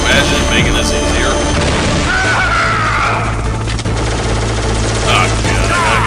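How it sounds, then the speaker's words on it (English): Liquid Snake's Hind D gunship in Metal Gear Solid thunders with a steady low rotor drone, mixed with booms and gunfire, while a voice talks over it. "Look at his freaking helicopter, it's spewing smoke."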